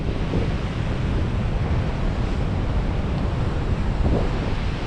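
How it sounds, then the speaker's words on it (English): Surf rolling onto a beach on Dirk Hartog Island, a steady loud roar of waves mixed with heavy wind buffeting the microphone, continuous with no talking. "But I mean, it's a pretty specky looking beach."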